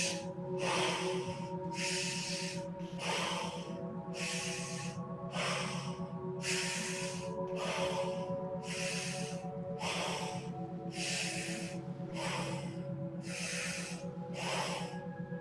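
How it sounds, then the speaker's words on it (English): Deep breathing during a yoga flexibility stretch comes as a quick, even series of about a dozen sharp breath bursts through the nose. It is close but soft, over a steady musical hum. "breathing deep into the lower part of the rib cage and the side body"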